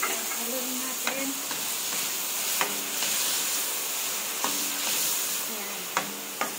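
Ampalaya with hotdog and soy sauce being stirred in a pan, a steady sizzle and hiss under repeated scraping strokes of the spoon, close and fairly loud.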